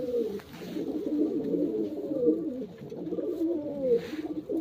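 Several pigeons cooing close by, their soft throaty calls overlapping continuously with no pause.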